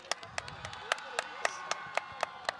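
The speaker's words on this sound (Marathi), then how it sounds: "नीलूसाठी एकदा जोरदार टाळ्या होऊ द्या" A small crowd at a box cricket match claps sparsely for a player, with about a dozen separate claps spread unevenly over a few seconds.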